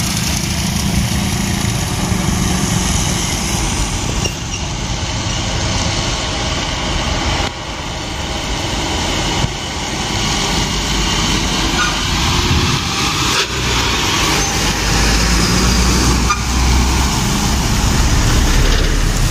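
Two new Hino 500 trucks climb a hill, their diesel engines droning in a loud, steady rumble that rises slightly toward the end, with no one speaking.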